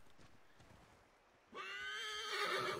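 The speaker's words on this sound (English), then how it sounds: "now we get on the horse" A horse in Assassin's Creed III neighs loudly after a brief lull, a bright whinny that follows soft hoof clopping.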